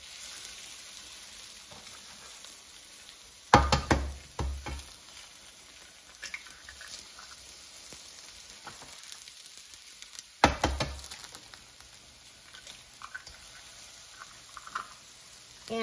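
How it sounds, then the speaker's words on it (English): Eggs go into a frying pan where cooked, tender potatoes are already sizzling; a steady quiet sizzle runs throughout, broken by two short clacks and splashes as the eggs are cracked and dropped in. "Just crack the eggs into the frying pan."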